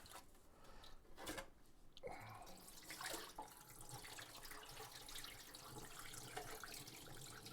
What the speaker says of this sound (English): it will take forever to get the water to run clear